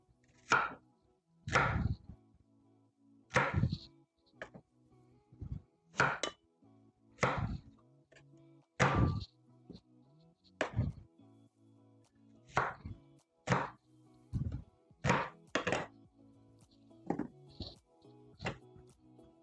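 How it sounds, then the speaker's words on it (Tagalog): Onions being chopped on a board in a home kitchen, about a dozen sharp knife strikes landing in an uneven rhythm, close and clear with no talking. "Grind natin si sibuyas."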